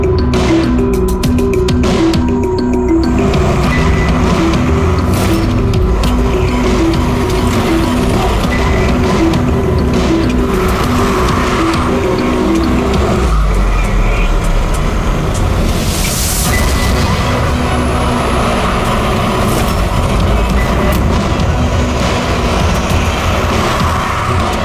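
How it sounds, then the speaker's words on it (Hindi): A getaway car accelerates and speeds off during a bank robbery chase, its loud engine roaring steadily over a constant rumble of road noise, with no voices heard. "अबे वो गाड़ी में भाग रहा है"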